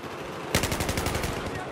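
Rapid automatic gunfire in the video game Battlefield 1 erupts after a brief hush, a loud, rhythmic burst of machine-gun shots continuing to the end.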